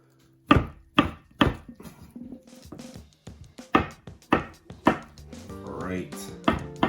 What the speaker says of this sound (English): my last few cuts, just on the last couple of slices